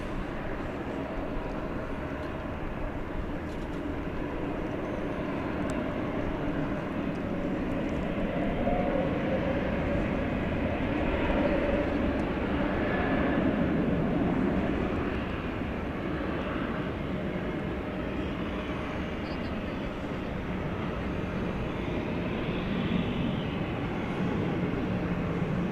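A propeller plane at DFW Airport at night sends a steady, broad engine drone across the field, moderately distant and swelling slightly toward the middle before holding even.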